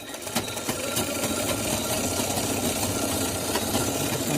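Sewing machine running stitches back and forth on a katori blouse, a continuous mid-level mechanical hum with a fast, even needle patter, close by and without speech.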